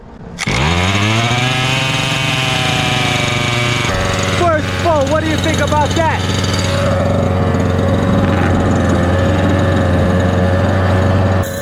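A small nitro engine in a Redcat Rampage Mad Max edition RC car starts up and buzzes loudly, settling into a steady, raspy idle with brief throttle blips, while someone talks over it.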